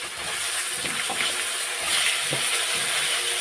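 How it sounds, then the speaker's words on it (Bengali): Potato pieces sizzle in hot oil tempered with cumin seeds for a Bengali fish curry, a continuous hissing fry with small pops, close and steady. "আলুগুলো ভেজে নেবো আগে"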